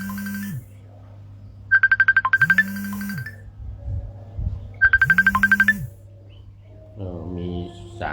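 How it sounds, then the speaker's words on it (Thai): An incoming-call phone ringtone plays a repeating chirpy electronic trill in two bursts over a low steady hum, with someone talking faintly between and after the rings. "มีสายเข้ามาต้องขออภัย"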